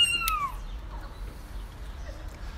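A cat hidden in a car engine compartment gives a short, clear meow near the start, followed by faint low rumbling and background noise.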